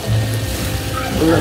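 Ham steak with pineapple and brown sugar simmers in a pan, giving a soft, steady sizzle and bubbling hiss throughout a brief moment.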